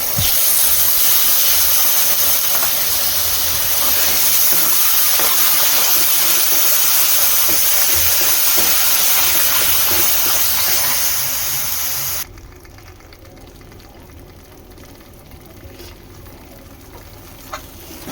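Tomato and onion puree hits hot oil with sautéed masala for dhaba-style chole, a loud, steady hissing sizzle that runs for about twelve seconds and then drops abruptly to a much quieter simmer.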